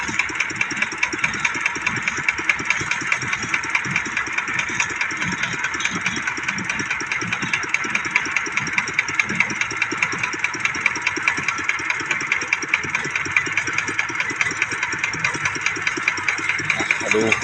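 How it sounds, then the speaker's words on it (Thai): A farm tractor cart's engine runs steadily throughout, a loud, continuous idling chug with rapid regular firing pulses and no pauses, close to the listener. "การขับนะครับ ของรถกระแทะนะครับมาแล้ว"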